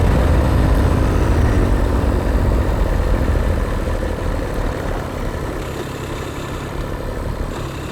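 Custom one-off diesel motorcycle engine running while riding: a loud, continuous low rumbling drone with a steady chugging texture, easing slightly in level toward the end.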